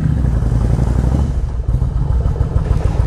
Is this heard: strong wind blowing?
no